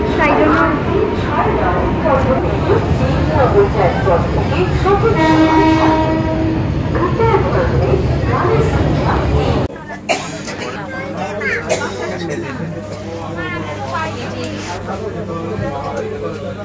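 A Main Line train arrives at Memari railway station with a loud, close rumble and a sustained horn blast midway. The noise then drops to a quieter rolling clatter, and people talk briefly.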